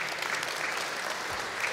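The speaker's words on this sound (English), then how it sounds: "Round of applause, please." Audience at the Codegarden 2019 conference applauding Mike's MVP award: a brief, even burst of clapping from a crowd, filling the moment without anyone talking.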